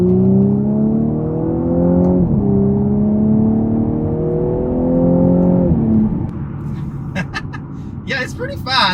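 A 2018 Audi S5 accelerates hard through the gears, engine tone rising steadily, dipping at two quick upshifts and climbing again, loud and close from inside the car, with brief talk near the end.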